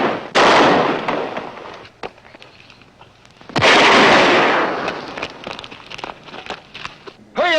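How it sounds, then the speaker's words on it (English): Two loud, sharp rifle shots ring out a few seconds apart, each followed by a long echoing decay over an outdoor hillside, with a brief voice at the very end. "That's rifle fire."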